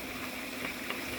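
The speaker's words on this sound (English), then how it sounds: "and now let's shake it." Shawarma sauce of squeezed lemon, salt and cold water is shaken in a container, giving a steady, close, hissing slosh of liquid with no talking.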